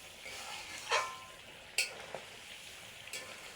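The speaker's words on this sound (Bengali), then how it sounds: "মশলাটা দিয়ে নেড়ে চেড়ে নেবে" Spices for an amra (hog plum) pickle are stirred in an oily pan, with a faint steady sizzle and three or four sharp, close scrapes of a spoon against the metal.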